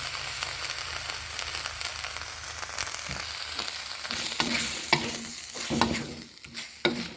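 Pork panang curry paste frying with coconut milk in a pan, a steady close sizzle with spoon scrapes and stirring clatter throughout, no talking.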